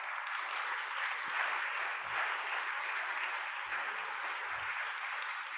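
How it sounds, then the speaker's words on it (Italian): A socially distanced audience in a hall applauds at a book presentation for Javier Cercas's novel Terra Alta, an even, sustained patter of clapping heard alone at moderate distance. "Applauso"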